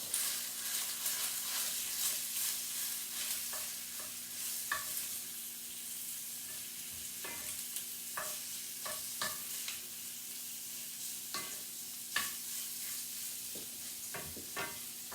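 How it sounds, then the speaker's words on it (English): A gluten-free Italian sausage roll fries in a pan with a soft, steady sizzle, broken by occasional sharp taps and scrapes of a utensil as it is turned, close and without speech. "I'm going to go ahead and turn my sausage roll."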